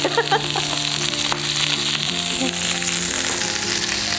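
Steady crackling sizzle of food frying in hot oil in a pan outdoors, continuous and close, with faint tonal sounds in the background.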